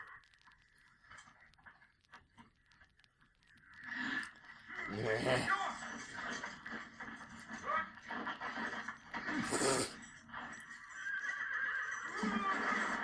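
A horse in a film neighs loudly and whinnies over several seconds amid hoof clatter and action noise, with a burst of shrill sound near the end and quieter voices beneath.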